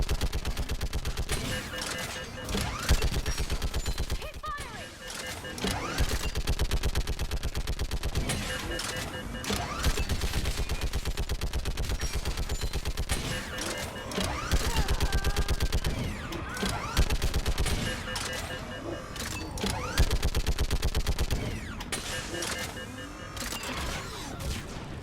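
Sustained gunfire in the game Mass Effect 3: dense, rapid automatic bursts and heavy shots run almost nonstop, with people shouting and talking over the battle.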